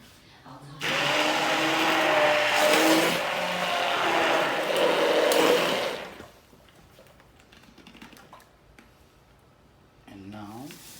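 A blender grinds ceviche sauce for about five seconds, a steady, loud whirring roar that starts abruptly and stops, followed by quiet kitchen noise and a brief voice near the end.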